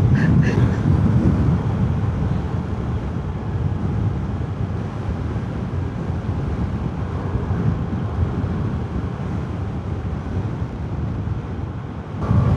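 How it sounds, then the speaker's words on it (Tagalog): Strong wind roars across the microphone while riding a motorcycle on a road in Jalajala, a loud, constant broadband rush that holds steady throughout without a break. "Uy, lakas ng hangin."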